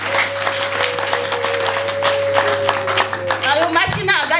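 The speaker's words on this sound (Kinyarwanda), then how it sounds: "Komera Imana amashyi menshi cyane." A church congregation claps at length, a dense continuous patter of many hands under a held tone, with a voice breaking in as the clapping ends.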